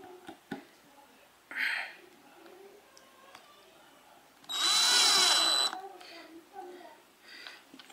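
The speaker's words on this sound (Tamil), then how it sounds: "நம்ம ஒரு ஸ்க்ரூ எப்படி போகிறோன்னு பார்க்கலாம்" Cheston 10mm cordless drill driving a screw, a loud steady whir lasting about a second after scattered handling clicks and a short earlier burst, with quiet surroundings.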